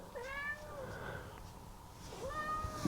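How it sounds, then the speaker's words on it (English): A pet cat named Layla meows loudly twice, a long wavering rising-and-falling cry close by, then a pause, then a second shorter call, with slight background noise. "Let me deal with my screaming cat"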